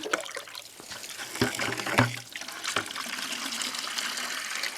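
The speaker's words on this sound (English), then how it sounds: "So the water is a little bit dirty, but so was this bucket that I'm using." Slightly dirty well water pours and splashes into a bucket from a newly repaired property well, a steady close-up gush with a few sharper clunks and no one talking.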